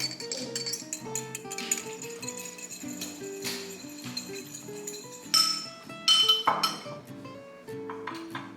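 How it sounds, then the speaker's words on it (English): A fork clinks repeatedly against a bowl in quick, irregular taps while something is being stirred, close and bright, with a few sharper metallic rings. "Don't try mixing with a fork, it doesn't work very well."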